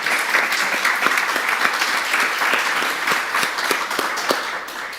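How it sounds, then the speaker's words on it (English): Applause from the audience at an Atlanta Housing board of commissioners meeting, a steady wash of many hands clapping at moderate loudness for about five seconds with no talking. "I think we all deserve a round of applause."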